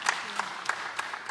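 Audience applause at the close of a national oil and gas symposium in Uganda, a brief patter of scattered claps from a fairly small crowd, moderately quiet and without talk.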